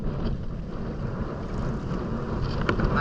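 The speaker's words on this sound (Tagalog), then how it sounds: "Malakas ng hangin." Strong northeast monsoon wind roars steadily across open sea, a broad, continuous rush buffeting the microphone with no voices.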